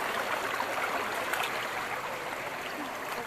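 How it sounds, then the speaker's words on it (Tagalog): A stream near a hidden waterfall flows and splashes steadily nearby, a continuous rushing, bubbling sound with no voices. "narinig na yung tubig"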